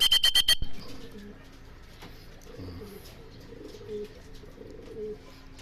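Soft, low cooing from a young racing pigeon hen in a loft, murmuring close by after a brief sharp clatter at the start, with faint chirps in the background.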